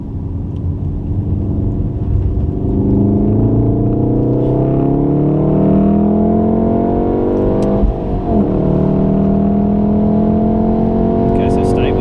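A VW Golf R race car engine at a Wakefield track day accelerates hard and loud, its pitch climbing steadily through the revs with a brief dip partway through, while an instructor's voice talks underneath.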